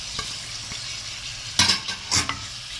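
Onions sautéing in hot oil, heard as a low background crackle broken by two loud, brief sizzling bursts as the pan is stirred, with no talking.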